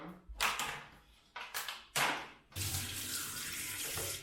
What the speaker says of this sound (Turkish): biberleri, domatesleri ve salatalıkları yıkayalım